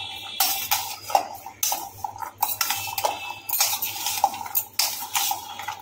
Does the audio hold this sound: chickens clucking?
no